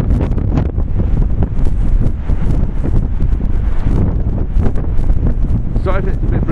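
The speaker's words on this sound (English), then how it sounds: "Sorry if it's a bit breezy" Breezy wind buffeting the microphone outdoors on a Blackpool street, loud continuous rumbling gusts that dominate throughout.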